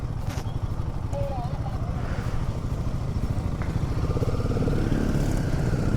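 Several motorcycles from a large group of bikers pass on a mountain road in Spiti, engines rumbling steadily and growing slightly louder, with people talking nearby over the noise.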